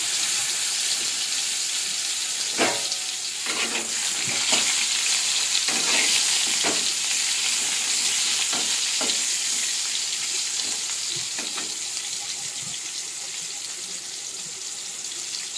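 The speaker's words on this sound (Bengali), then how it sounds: "আমি এবার কড়াইয়ের মধ্যে এক এক করে পটলগুলোকে দিয়ে দিচ্ছি।" Pointed gourds (potol) fry in a wok with a steady, loud hiss of hot oil, broken by occasional sharp sputters and utensil knocks as pieces are added and stirred.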